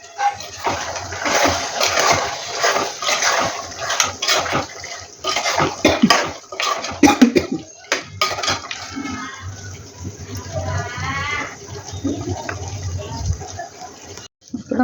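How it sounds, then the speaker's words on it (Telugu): Water poured into mutton curry in a pot for the gravy, an uneven gushing and splashing pour with clinks, fading near the end. "ఇప్పుడు మటన్లో పులుసు కోసం అయితే నీళ్ళు అయితే పోస్తున్నా."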